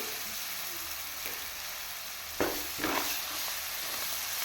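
Chicken mandi paste frying in a pan with a steady low sizzle, broken by a few short scraping stirs of the spoon near the middle.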